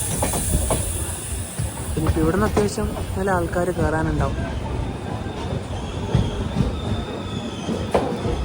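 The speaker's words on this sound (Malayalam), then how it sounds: "ട്രെയിൻ ഇപ്പോൾ ഉടുപ്പി റെയിൽവേ സ്റ്റേഷനിലേക്ക് എത്തുകയാണ്." An express train pulls into Udupi railway station with a rumbling roll, squealing wheels and a hiss, while someone talks close by over the train noise.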